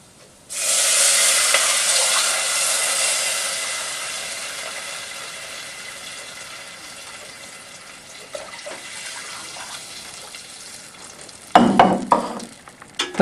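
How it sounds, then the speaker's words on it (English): Water poured into a pan of fried spices for jeera rice bursts into loud sizzling and bubbling, then settles into a quieter simmer before stirring clatter and scraping near the end. "So we are going to add water now."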